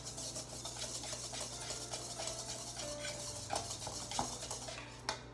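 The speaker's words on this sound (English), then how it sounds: "you just give it a bunch of whisking" Wire whisk stirring dry flour in a mixing bowl for banana bread batter, a steady scraping, rasping swirl with faint clinks against the bowl, continuous and close with no talk.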